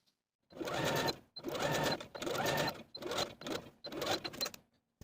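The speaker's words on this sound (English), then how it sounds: "I'm going to use the longest stitch on my machine and go all the way around with about 1/8 of an inch seam allowance." A home sewing machine running on its longest stitch around a knit dress seam, five quick bursts of rapid mechanical stitching separated by short pauses, close and clear with no talking.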